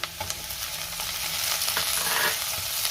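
Onion sautéing in a pan for bhindi bhaji (okra stir-fry) as tomato goes in, giving a steady close sizzle with a few soft stirring knocks throughout.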